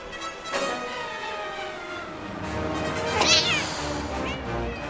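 A stray kitten, cornered on the street, gives a high, wavering meow over a steady background hum, and a larger angry cat's rougher cry rises sharply near the end.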